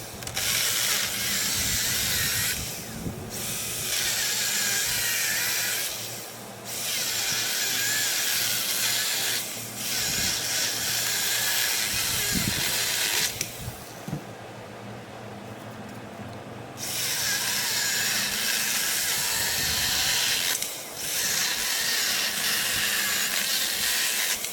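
A Stihl GTA 26 battery garden pruner cuts wood in several loud, sustained bursts of its high whirring chain, each separated by brief pauses, heard alone without talk.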